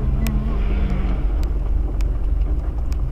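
A Lada Niva drives across grass, its engine giving a steady, loud low rumble throughout with a few faint clicks and knocks over it.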